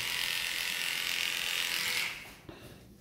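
A cordless dog grooming clipper buzzes steadily close by, then cuts off abruptly partway through, leaving a faint click and quiet.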